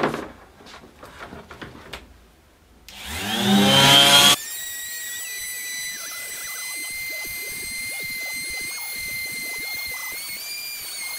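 A Bosch sander fitted with a fresh P120 abrasive disc runs with a steady, loud whine that holds continuously for several seconds, after some brief handling clatter and the motor spinning up.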